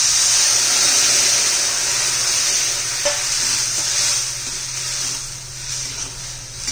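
Cooked kidney beans being stirred into a hot pan of frying spices with coriander powder and turmeric, a loud continuous sizzle with scraping stir strokes that eases slightly toward the end.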